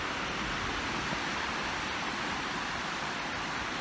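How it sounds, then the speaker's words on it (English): Raging river rushing through Boulder Canyon, a constant broad roar of whitewater, steady and fairly loud with no talk. "the raging river."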